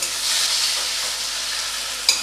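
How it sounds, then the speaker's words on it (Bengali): A spatula stirs and chops steamed taro leaves in a frying pan over low heat, giving a steady close sizzle with soft scraping, ending in a short sharp clack against the pan. "খুন্তি দিয়ে দিয়ে এরকম করে কেটে কেটে দেবেন।"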